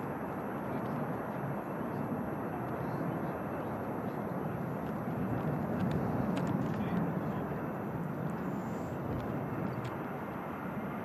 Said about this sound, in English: Here's the EasyJet.